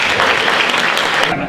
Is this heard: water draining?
no